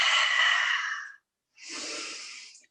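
Two long, forceful breaths during kids' yoga, a loud airy exhale for about a second, a short pause, then another breathy lion's-breath exhale with a raspy throat edge, close and alone.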